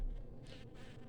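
Honeybees in an opened hive swarm over a frame with a steady close-up buzz that swells and fades in waves, with no voices.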